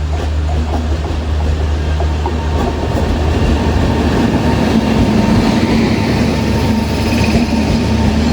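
Express train bound from Cuddalore Port to Mysore rumbling past a passenger train halted to let it cross, near Tiruchirappalli Fort station; a steady, loud rail roar with low wheel rumble runs throughout.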